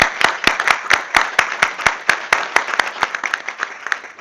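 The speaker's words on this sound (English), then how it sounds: "And if we could have another round of applause." A small audience at a city council meeting claps, with individual hand claps distinct in an uneven but steady rhythm, fairly close, with no talking.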